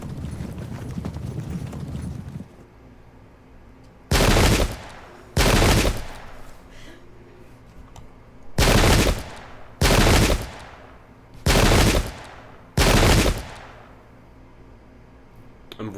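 Cavalry horses in the strategy game Pike and Shot: six loud bursts of galloping hoofbeats, each lasting about a second, separated by short gaps, with a low rumbling battle ambience at the start and no talking.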